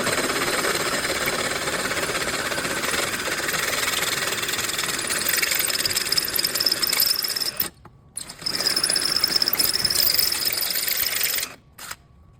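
A power drill boring out a broken transmission crossmember bolt hole to 3/8 inch on a Ford Transit, a loud continuous mechanical whir with two brief stops near the end.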